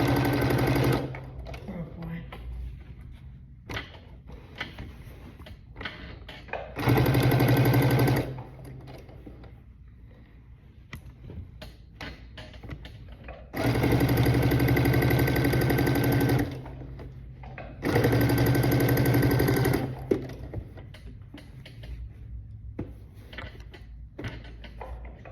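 A sewing machine stitches a fabric wall storage bag in three bursts of steady mechanical whirring, each lasting a few seconds. Quieter handling noises fill the gaps, and a person talks lightly in between.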